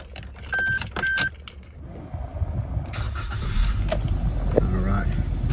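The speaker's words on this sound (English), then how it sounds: "Give the car a quick start now." Keys jangle and a door or switch clicks before the engine of a 2022 Suzuki Jimny GLX 4x4 cranks and catches, settling into a low, steady idle heard close up from inside the cabin.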